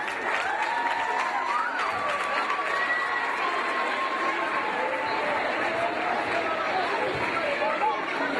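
An audience at a youth festival in Alcalà de Xivert applauds and cheers steadily for a teachers' group dancing a 1970s remix. Dense clapping blends with raised voices and crowd chatter throughout.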